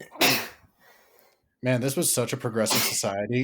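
A single sharp sneeze bursts out close by, followed by a short pause and then someone speaking.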